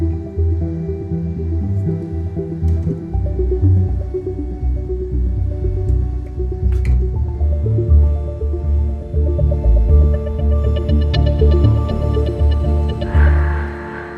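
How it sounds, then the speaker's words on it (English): Atmospheric sound-design patch from the Sonuscore Elysian library: a dense, sustained swelling pad with deep low tones, shifting textures and shimmering higher layers building toward the end, played alone without speech. "I love Elysian from Sonuscore as well"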